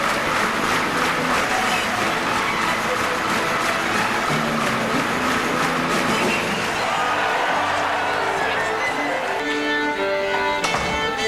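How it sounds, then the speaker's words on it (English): A lively audience claps along to music, cheers and whoops, with dense, loud applause filling the whole stretch and brief tonal blasts like air horns near the end. "They clap along with the music, they whistle, they stomp, they set off air horns."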